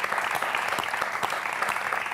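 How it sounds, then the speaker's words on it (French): Studio audience applause for a contestant on a television quiz show, dense rhythmic clapping from a crowd, loud and steady throughout with no talk over it. "on vous applaudit François-Régis"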